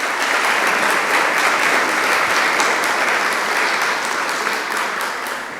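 A church congregation bursts into loud, dense applause, an even wash of many hands clapping close by that carries on for over five seconds and tapers slightly at the end.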